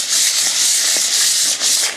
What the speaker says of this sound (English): lightly sanding over the surface to knock down those high points.